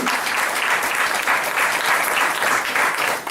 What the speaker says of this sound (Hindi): एक जोरदार ताली मैडम के लिए।